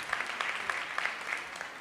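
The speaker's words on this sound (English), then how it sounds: "can we give a big round of applause to the Krishna Fun School kids and the teachers" Audience applause at a Sunday program, honoring a children's school presentation: steady, moderately soft clapping from a crowd with no voices over it.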